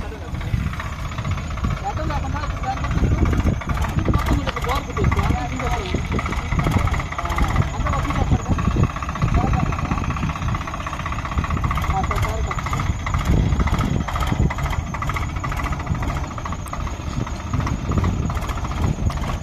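A tractor ploughs a field at the SKG 35 venture site, its engine chugging steadily and loudly nearby with a continuous rumbling throb, while someone talks over it.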